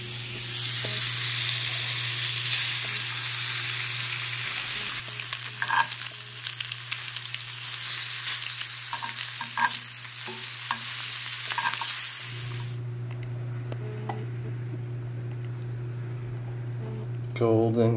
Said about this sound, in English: now we're going to fry up the bluegill